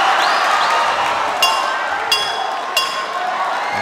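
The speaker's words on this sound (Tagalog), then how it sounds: "And the crowd goes wild" Boxing arena crowd cheering loudly and continuously through the whole stretch, a dense roar with a few sharp metallic clinks or bell-like pings standing out at intervals.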